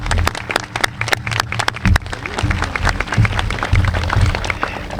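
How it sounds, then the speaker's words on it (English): An audience at an evening high school track dedication applauds, steady dense clapping that continues unbroken for the whole stretch, moderately loud and close. "Let's give Denise one more round of applause"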